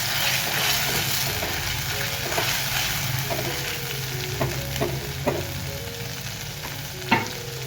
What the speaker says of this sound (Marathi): याला पण चांगलं असं परतून घेऊया आपण